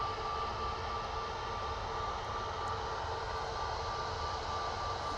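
An Airbus A330-300 airliner on approach to Manchester Airport after a flight from Atlanta gives off a steady, distant broadband jet roar that holds level for the whole stretch, with no voices.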